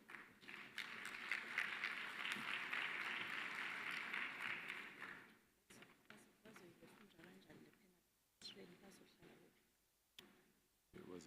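Conference audience applauding an education official at a 2023 Basic Education Sector Lekgotla, a broad dense clapping wash that fades after about five seconds, followed by scattered room noise and people talking.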